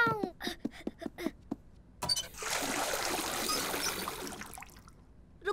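Cartoon water pours for washing, a sustained splashing, trickling gush that runs for about three seconds and then tapers off, preceded by a few short animated sound effects.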